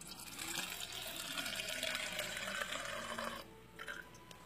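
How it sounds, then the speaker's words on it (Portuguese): Water pours steadily into a glass jar as a homemade air freshener is mixed: a continuous splashing stream for about three seconds, then stopping, with a few faint trickles and clinks after. "Você vai pegar um vidro desse e vai colocar a água."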